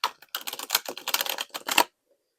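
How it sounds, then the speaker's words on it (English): A quick riffle shuffle of cardstock tarot cards, a rapid papery flutter lasting under two seconds, followed by silence. "I struggle to riffle shuffle, but we will try it."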